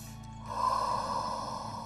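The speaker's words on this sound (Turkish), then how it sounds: "Burada çok derin nefesler istiyorum." Deep breath drawn during a pilates exercise, a soft airy inhalation that swells midway and holds, faint and close.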